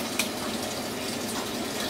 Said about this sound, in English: Okay, now it's almost half full, the tub of water.